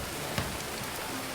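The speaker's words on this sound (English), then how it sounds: "All this rain, not good." Rain falling in the medieval colony-building video game Going Medieval, a dense, steady hiss of rainfall with scattered droplet patter and no voices.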